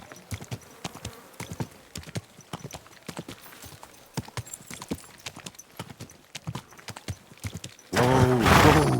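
Horse hooves clip-clop at a walk in Kingdom Come Deliverance 2, a steady uneven patter of close hoof strikes on hard ground, ending in a sudden burst of louder noise.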